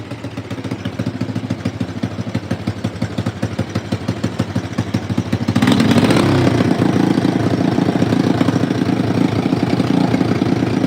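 An engine idles with a steady rapid chugging pulse, close and fairly loud, the idle rising and getting louder about halfway through before settling into a higher, even run.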